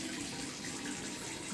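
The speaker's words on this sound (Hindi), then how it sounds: "लाइव आपके सामने पानी गर्म आ रहा है" Steady, continuous rush of hot water pouring from the tap of an instant electric water geyser, close and unbroken.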